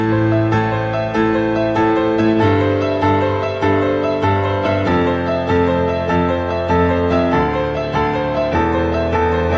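Blues piano with both hands together: a repeating low left-hand pattern under busier right-hand chords and notes, played in a steady rhythm, close and clear with no voice.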